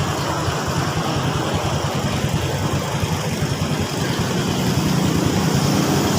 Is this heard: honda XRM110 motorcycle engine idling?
yes